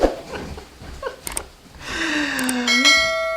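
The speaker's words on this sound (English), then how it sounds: "You can ring my bell, ring my bell" A bell rings out after some brief knocks and rustles, its ringing tone sustained and slowly shifting before cutting off, fairly close.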